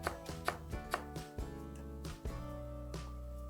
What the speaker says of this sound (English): we're gonna cut up some cilantro. Just again, just a rough chop on your cilantro.